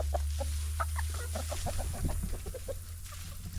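Several backyard chickens cluck in short, scattered bursts as they rush toward thrown scratch grain. Their calls are close and moderately loud over a steady low hum.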